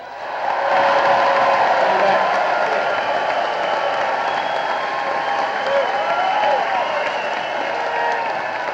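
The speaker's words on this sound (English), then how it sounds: "Wow, what a crowd here." A large crowd at a Mitt Romney and Paul Ryan campaign rally in Ashland, Virginia applauds and cheers loudly. Sustained clapping mixes with whoops and shouts throughout, and voices carry underneath.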